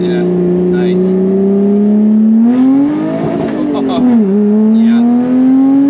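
Supercharged V6 of a Lotus Exige 380 at the Nürburgring, heard from inside the cabin as a loud, steady drone that climbs in pitch under acceleration, dips on a shift and climbs again, with people talking briefly over it.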